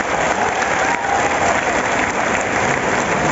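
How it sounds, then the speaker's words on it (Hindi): Sustained applause from a university audience in Gwalior fills the hall, a dense, even wash of many hands clapping at steady loudness throughout, with no voices over it. "मेरी बात से सहमत हो गए तो एक बार ताली बजा के बताना चाहेंगे।"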